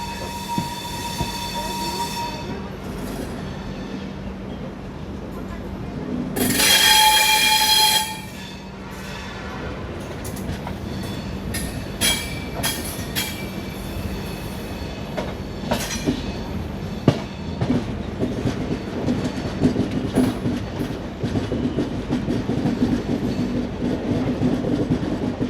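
Ranthambhore Express passenger train running on rails between Indore and Jaipur, a continuous rumble with rhythmic wheel clatter, squealing wheels and a brief horn blast near the start, heard close from inside the moving train.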